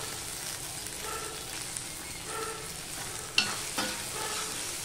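Chopped tomato hits bottle gourd cooking in a pan, giving a soft, even frying sizzle with a couple of sharper scraping stirs partway through, fairly quiet overall.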